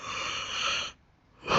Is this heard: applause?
no